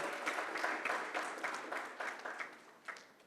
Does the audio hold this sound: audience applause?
yes